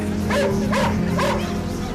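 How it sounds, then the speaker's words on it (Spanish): Dogs bark three times in quick succession, loud, close and agitated, while being attacked by killer bees. "De repente, empiezan a ladrar frenéticamente."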